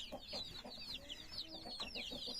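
Chicks peep rapidly in high bright chirps while chickens cluck softly beneath them inside a coop, a busy, continuous chatter heard up close at low volume.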